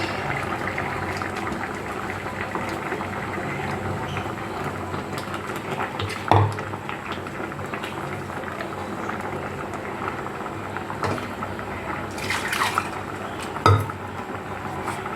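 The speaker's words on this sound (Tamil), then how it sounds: "தேங்காய் வெங்காயம் அரைச்சி வச்சிருக்கோம் அதை ஊற்றணும்" Ground coconut and onion paste goes into a simmering dried chenna kooni fish curry. Soft liquid bubbling and sloshing continue under occasional clinks of a utensil against the pot, with a couple of louder knocks.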